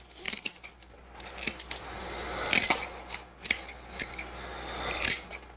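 Scissors or shears snip through the leafy top of a giant freshly harvested carrot, a series of sharp close metallic cuts and clicks in an uneven rhythm, with no speech.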